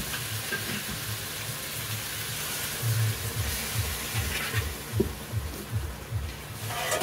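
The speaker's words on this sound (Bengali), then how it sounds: "এবার আমি জল দিয়ে দেব।" Water goes into a pan of frying spiced fig mixture for a Bengali fig dish, giving a steady close sizzle and hiss with a low, pulsing bubble underneath, loudest around the middle and tapering slightly.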